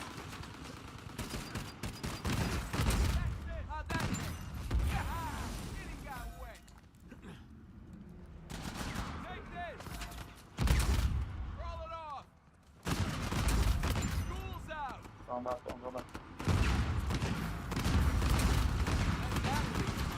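Bursts of gunfire in a multiplayer third-person shooter video game crackle and boom in loud, uneven volleys, and excited voices talk over the shooting.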